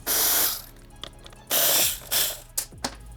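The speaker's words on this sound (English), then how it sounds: "I will use a 10mm socket to remove them" A ratchet wrench with a 10mm socket loosens turn signal nuts on a Suzuki GSX-8S motorcycle, giving a few close bursts of rapid clicking broken by short pauses and sharp single clicks.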